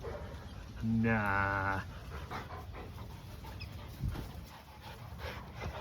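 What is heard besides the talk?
Kelpie dogs barking and panting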